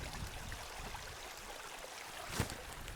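A small stream at the edge of a Cheviot Hills forest flows with a steady, faint babble. One brief louder splash or knock sounds near the end.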